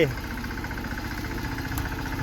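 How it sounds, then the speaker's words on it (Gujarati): A small tractor engine runs steadily at idle with a low, continuous mechanical drone and regular firing pulses, heard fairly close throughout. "નાનું ટ્રેક્ટર હે ને વળે"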